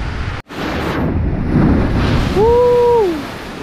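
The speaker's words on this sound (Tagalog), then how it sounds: "Lakas ng alon dito. Yung tubig niya umaabot sa taas." Strong ocean waves crash and surge against a rocky shore, a loud, broad wash of surf with heavy wind buffeting the microphone and a brief dropout early on, while a short voice-like whoop rises near the end.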